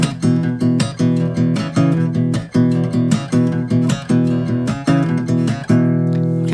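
A fingerstyle guitar plays a song's riff, a bouncy repeating pattern of bright plucked notes over a pulsing bass, close and loud with no voices.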